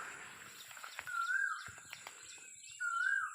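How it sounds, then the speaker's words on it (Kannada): Birds singing in a home garden with fruit trees, with a few clear high whistled calls repeating and softer chirps and rustling around them, close and fairly quiet. "ಹಕ್ಕಿಗಳ ಚಿಲಿಪಿಲಿ ಮತ್ತು ಕೋಗಿಲೆ ಕೂಗ್ತಾ ಇರೋದು ಎಲ್ಲ ಮನಸ್ಸಿಗೆ ಒಂಥರ ನೆಮ್ಮದಿ"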